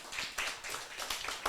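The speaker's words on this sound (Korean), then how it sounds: "박수 한번 쳐주세요." A small church group claps together during a Korean sermon, giving a few quiet, uneven bursts of hand claps that rise and fade in loose waves.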